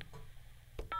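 Touch-tone keypad dialing *70 on a Cox digital telephone: a few short electronic beeps, a brief one early then two quick tones near the end, over a quiet hum.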